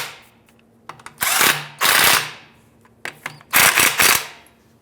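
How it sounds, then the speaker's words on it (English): Short loud bursts of an impact power tool driving a 13mm socket onto exhaust hanger nuts on a 1998-2002 Lincoln Navigator, four rattling runs separated by brief pauses, up close. "13mm socket. Go ahead and tighten these up, make sure they're nice and snug."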